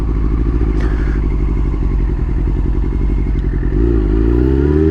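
A 2000 Yamaha R6 with a Healtech quickshifter runs hard, its loud, steady engine note carrying a rapid rhythmic pulse, with a sharp crackle and thump as the gear changes through and the revs rise again.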